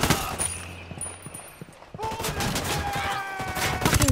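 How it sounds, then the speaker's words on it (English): Sustained gunfire in the tactical shooter game Ghost Recon Wildlands, a loud burst of rapid shots followed by more scattered reports. "Ready to fire. Firing!"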